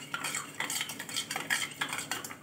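A spoon stirs sugar into milk for sharbat, with a continuous busy metallic clinking and scraping against the vessel in quick repeated strokes, close and moderately quiet.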